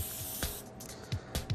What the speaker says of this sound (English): you can coat it with a little bit of butter or a little bit of kitchen spray